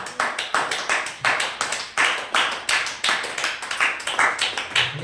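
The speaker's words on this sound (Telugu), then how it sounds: "గట్టిగా చప్పట్లు." A church congregation at Sunday worship clapping loudly in unison, a fast steady rhythm of sharp claps, close and forceful, with no talking.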